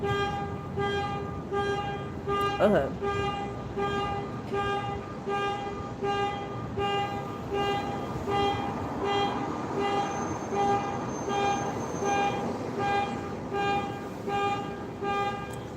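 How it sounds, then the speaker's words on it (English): A car horn sounds nearby in a long run of regular, evenly spaced beeps, persistent and fairly loud over road noise, with a brief word spoken partway through. "I'm trying to wait for this car to stop beeping."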